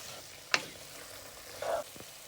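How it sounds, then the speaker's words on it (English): Potatoes are mixed into curry lentils in a pot over a faint low sizzle, with one sharp clink of a spoon and a brief soft scrape after it, and no talking. "we're going to add in the potatoes. And we'll mix that in as well."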